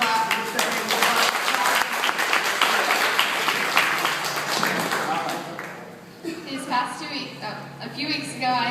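Dense crowd applause fills the room for someone speaker, loud and steady for about six seconds before fading out as a voice begins talking.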